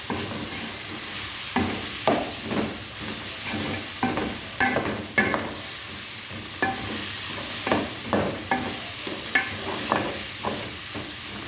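Chopped onions fry in a pan while being stirred, a steady loud sizzle broken by repeated scraping strokes of the utensil in an irregular rhythm, with no voices.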